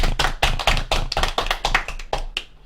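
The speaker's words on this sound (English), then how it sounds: "Everybody, clap your hands." Several people clap their hands together in a quick, lively burst of sharp close claps lasting a couple of seconds.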